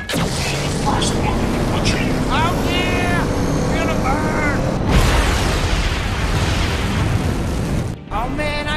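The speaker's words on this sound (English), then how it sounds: "Now turn them other rockets up to 11." Rocket thrusters on a spaceship firing up in Tales from the Borderlands, a loud steady roaring rush with booming bursts, layered under character voices talking throughout.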